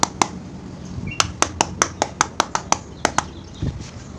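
A dirty part from a Honda Supra X 125 fuel-injected motorcycle is rapped against the floor in a quick series of about a dozen sharp, close taps, mostly evenly spaced with a few short pauses.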